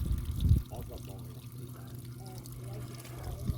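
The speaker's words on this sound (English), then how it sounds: "It's all pouring off the back." Floodwater pouring off the back of a motorhome roof as the front is jacked up, a steady rushing trickle with a splash near the start and a voice speaking over it.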